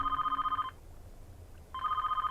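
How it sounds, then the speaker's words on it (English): A telephone in a security room in the video game 428: Shibuya Scramble rings in two rapid trilling electronic bursts separated by a short pause, faint and somewhat distant. "they'd heard the sound of a phone ringing in the security room"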